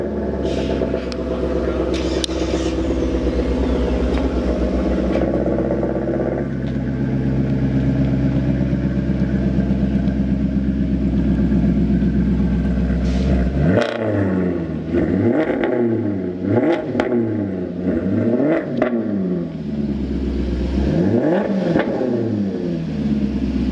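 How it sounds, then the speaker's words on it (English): A 2014 Maserati GranTurismo Sport engine rumbles at a steady idle, then several sharp revs climb and drop in quick succession, loud and close by. "what does it sound like? And that's what we're going to do right now."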